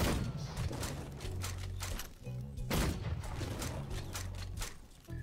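Rapid gunfire from the Full Metal Furies video game, a dense run of loud cracking shots and thumps over game music and effects, with a brief lull near the middle.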